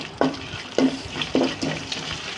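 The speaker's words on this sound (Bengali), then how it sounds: "বাটা মশলাগুলোকে একটু ভেজে নিব কাঁচা গন্ধ চলে যাওয়ার জন্য" Onion, garlic and ginger paste frying in a pan while being stirred, for a katla fish curry with potato and teasel gourd, three or four rhythmic scraping strokes over a soft sizzle, heard alone.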